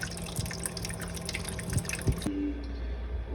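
Water trickles weakly from a kitchen tap with low pressure, irregular dripping and splashing into the sink, then the flow cuts off, leaving a faint steady hum.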